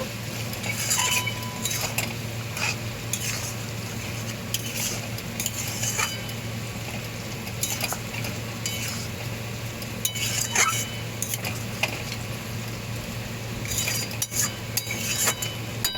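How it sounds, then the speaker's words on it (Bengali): A milk drumstick curry with ground garam masala is stirred in a pan over a gentle sizzle, with scattered spoon scrapes and clinks against the metal and a steady low hum behind. "এইবার আমি এই গুঁড়ো গরম মশলাটা দিয়ে দেব, ভালো করে নেড়ে দেব।"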